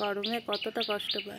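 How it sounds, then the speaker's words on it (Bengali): Two small birds call in quick chirping bursts, close and fairly clear, with a person speaking over them throughout. "ওই দেখো দুটো পাখি ডাকছে"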